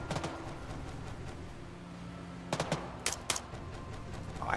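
Gunfire in Arma 3 Apex, a few sharp shots cracking in short clusters over a steady background rumble, fairly close but not overpowering.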